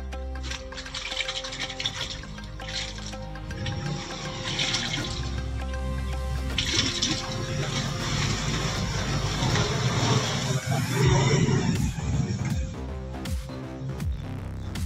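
Water sloshes and splashes steadily as Ecofungi decomposer solution is stirred into water for vegetable crop treatment, a continuous wet churning that swells toward the end.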